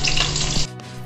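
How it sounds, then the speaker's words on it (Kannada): Mustard seeds crackle and sputter in hot oil in a pan, a dense hissing patter for just over half a second before it suddenly drops to a low, faint background hum. "ಸಾಸಿವೆ ಚಿಟ್ಕುಡ್ತಾ ಇದೆ"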